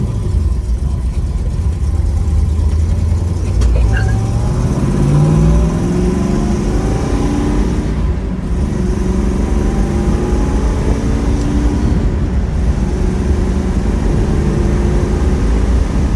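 A 1969 Chevrolet Chevelle 396 Yenko tribute with a 4-speed idles and runs with a steady, loud low rumble throughout, its pitch shifting slightly as the engine revs, close by with no talk.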